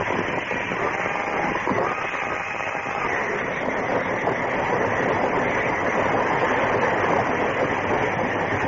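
A speeding train in an old radio drama sound effect, a steady, dense rushing roar with rail clatter that holds loud and unbroken throughout, with no voices over it.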